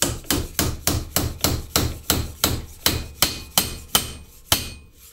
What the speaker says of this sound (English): First hit down the bushing in his place.